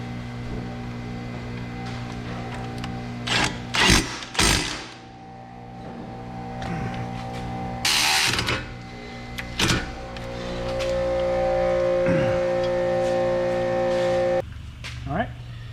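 Caliper bracket bolts being tightened on a MazdaSpeed3 brake job in a garage, a few sharp metallic clanks and bursts of tool whirring over a steady mechanical hum, with someone talking at times.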